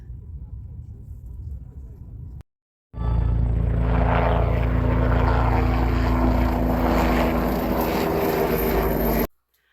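A Life Flight medical aircraft comes in close: a loud, steady rotor-and-engine roar that fills the air for several seconds after a brief quieter stretch, heard from a pickup truck at a dirt bike race in Idaho.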